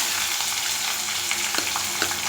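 Small onions, garlic and curry leaves fry in a pan with a dense, continuous close sizzle. Light stirring clinks and scrapes sound now and then, and no one speaks.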